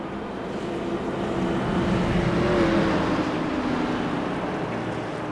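Race cars in an iRacing NASCAR Xfinity Series sim race at Iowa Speedway, a steady, continuous engine roar that swells slightly mid-way and holds, with no talk.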